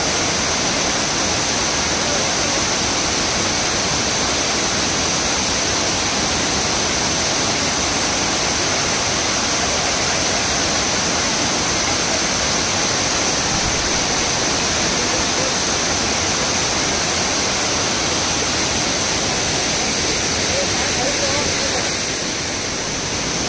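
The Savdav waterfall near Kankavli in the Konkan roars in a dense, unbroken rush, loud and close throughout, during the onset of rain.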